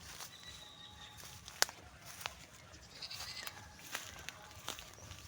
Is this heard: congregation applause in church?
no